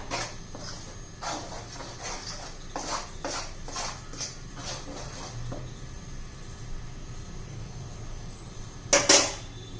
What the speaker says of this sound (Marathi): ते गरम एक प्रथम आपण चमच्याने हलवून घेऊया